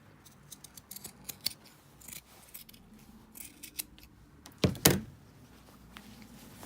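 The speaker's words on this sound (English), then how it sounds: "Trim your seam allowance." Sewing scissors snip through the fabric seam allowance on a shirt cuff in a series of quick, quiet cuts, ending with a louder pair of closing snips.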